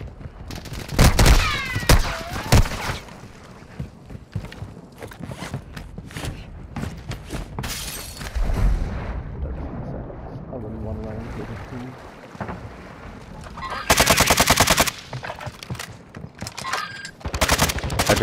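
Video game gunfire in a multiplayer shooter match, with loud rapid automatic bursts and single shots scattered across the scene amid explosions and rumbling effects, while players talk over the action.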